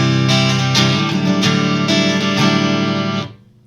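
Ernie Ball Majesty electric guitar played clean through a Mesa 525 amp with no reverb, strummed chords ringing loud and steady for about three seconds before cutting off dry.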